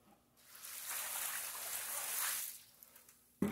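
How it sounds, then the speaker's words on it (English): Water pours steadily from a container after soaking a skunk carcass to lift spray odor, a broad splashing gush rising over about two seconds, then tapering off into quiet. "I'm going to go ahead and pour this water out"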